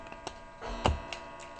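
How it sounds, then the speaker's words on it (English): Clocks ticking indoors, several soft, regular ticks close by with one low thump midway, no clear chime. "Got clocks chiming everywhere. Cuckoos, you name it."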